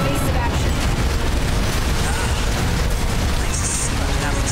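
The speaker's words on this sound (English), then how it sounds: "Explosions in the sky, even!" Explosions and bursts of weapon fire in the mech combat game Armored Core VI, a dense, continuous roar of blasts with a steady loud rumble and no pauses.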